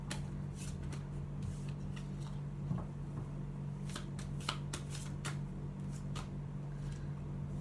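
Tarot cards being shuffled and drawn, a run of soft papery riffles and quick flicks at close range over a low steady hum, with no voices.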